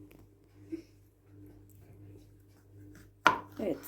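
One sharp, loud knife chop on a cutting board cuts through a quiet stretch of low hum as morel mushrooms are prepared for a stuffed morel dish, followed by a softer knock.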